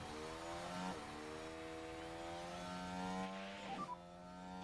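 Racing engines in the video game F1 Manager 2023, with a car overtaking a back marker; rising and falling engine whines sweep past, two passes at moderate distance, fairly faint and without speech.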